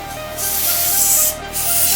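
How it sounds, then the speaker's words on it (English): An electric duster blows compressed gas through the holes of a gaming mouse, a close, loud hissing spray in two bursts separated by a brief pause. "you can actually spray it through the holes"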